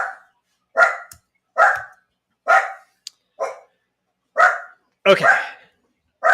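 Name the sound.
dog barking excitedly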